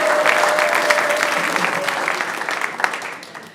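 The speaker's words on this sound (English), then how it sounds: "How about giving her a big round of applause?" A church congregation breaks into a burst of applause, dense clapping that holds steady and then slowly thins out over a few seconds.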